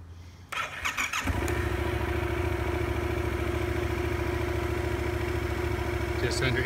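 A 2017 Yamaha FZ-07 motorcycle cranks briefly and fires up, then settles into a steady, loud, close idle with an even throbbing rumble for several seconds.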